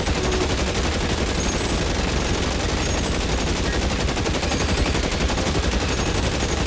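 Sustained gunfire in the video game L.A. Noire, a dense continuous barrage of rapid shots filling the whole stretch at steady loudness with no talk over it.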